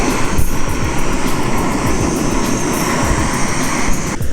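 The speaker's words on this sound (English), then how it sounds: "Now the jet boil was turned up to maximum." Steady, loud roaring hiss of a Jetboil camping gas stove burner at full blast, constant and close with no pauses.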